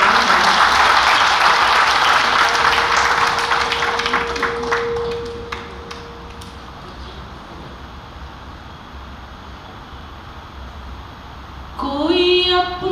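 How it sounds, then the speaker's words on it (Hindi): Audience at a Hindi poetry recital applauding for the poet, dense clapping for about four seconds that thins and fades into quiet room tone, with a brief sound at the end. "ज़रा मुझे तालियों से अनुमति प्रदान करें"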